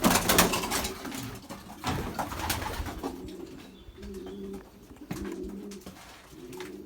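Repeated soft cooing of Belgian racing pigeons nearby, several rhythmic coo phrases rising and falling over a few seconds, with rustling and wing sounds in between.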